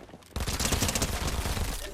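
Rapid burst of Monarch pistol gunfire in Fortnite Chapter 5 Season 4, loud and close, starting abruptly after a brief quiet moment and continuing as a dense fusillade.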